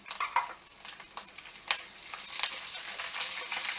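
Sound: green chillies and curry leaves sizzling in a tempering

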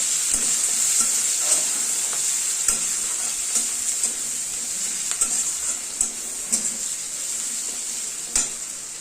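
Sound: stir-frying chopped onions and green chillies

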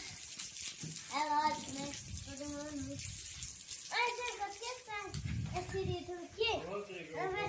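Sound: running water

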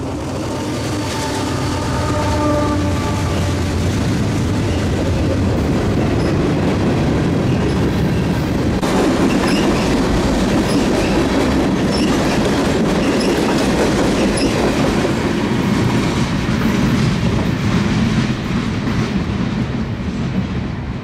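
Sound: freight train with several locomotives passing

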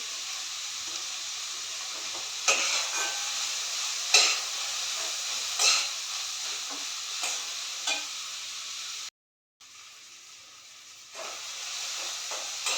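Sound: tomatoes frying for pav bhaji

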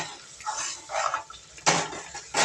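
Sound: stirring food in a pan

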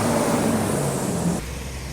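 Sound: vehicle passing by on the road

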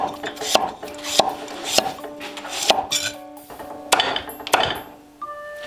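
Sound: chopping pumpkin into small slices

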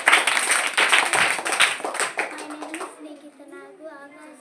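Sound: children clapping

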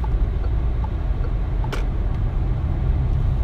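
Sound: Peugeot 2008 GT 1.5 diesel engine running while driving

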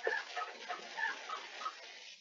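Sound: chicken clucking

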